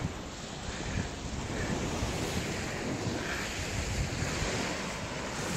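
Waves wash onto the beach at Port Bruce on a foggy morning, a steady broad surf roar mixed with gusting wind buffeting the microphone, and no voices.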